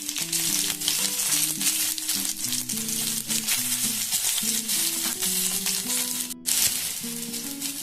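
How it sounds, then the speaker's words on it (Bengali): White cumin seeds and a few bay leaves hit hot oil in a kadai beside already-fried potatoes, giving a steady, close crackling sizzle that runs throughout under soft background music. "আমার এখানে একটুখানি জায়গা করে আমি দিয়ে দেবো একটু সাদা জিরে, দেবো কয়েকটা তেজপাতা"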